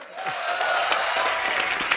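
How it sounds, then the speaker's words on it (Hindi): Studio audience applause on a comedy talk show, steady dense clapping with some crowd noise that swells slightly and holds at a loud, even level throughout. "मिस्टर इरफान खान, जोरदार तालियां।"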